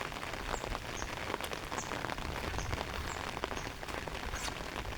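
Rain falls over green rice paddies, a steady, even hiss of countless drops with scattered closer ticks, continuous and moderately quiet with no voices.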